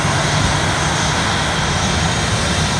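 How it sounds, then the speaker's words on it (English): A Southwest Boeing 737-800 jet passing overhead near Fort Lauderdale airport, a steady loud broadband engine roar that holds constant through the whole stretch with no voices. "also a Southwest Boeing 737-800 heading over to Baltimore"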